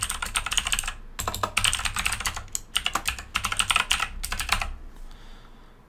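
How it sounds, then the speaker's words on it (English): Fingers type on a computer keyboard in quick bursts of close, crisp key clicks, separated by short pauses, with no voices. "So I'm just going to type in my information."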